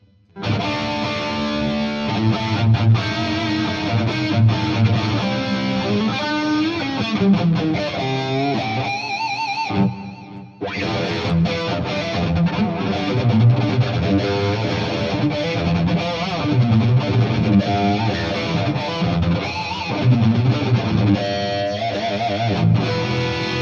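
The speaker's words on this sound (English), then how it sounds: "And now with the clean channel and the Friedman." An electric guitar plays through the clean channel of a Marshall DSL100H amp with a Friedman pedal, giving a loud, gritty overdriven tone of strummed chords and riffs with a short pause midway.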